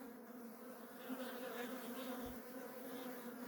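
Honey bees hum in a dense, even drone from a hive opened for inspection after a swarm split, a soft continuous buzz with no talking.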